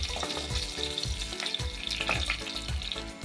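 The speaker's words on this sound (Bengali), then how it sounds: "মাছগুলো আমি ভেজে নেব।" Oil sizzles steadily as rohu fish fry in a pan, with occasional soft clinks and stirring sounds, close and continuous.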